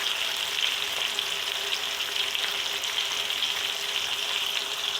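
Tomatoes frying in a pan with garlic and ginger for chickpea (chana) pulao, a steady, even sizzle that holds close and constant for the whole stretch with no voices.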